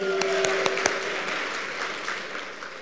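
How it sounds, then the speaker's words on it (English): Audience applause at an awards ceremony, a broad steady wash of clapping from a large crowd with a few sharp, closer claps near the start, fading slightly toward the end. "Let's do a huge round of applause, please."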